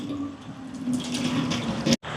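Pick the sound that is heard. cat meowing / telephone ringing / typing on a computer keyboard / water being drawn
water being drawn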